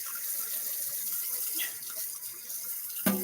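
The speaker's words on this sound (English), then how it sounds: "I'm just going to rinse it and dry it." A running kitchen tap splashes as a spoon is rinsed, a steady hiss of water with small shifts in tone, ending with a brief clink near the close.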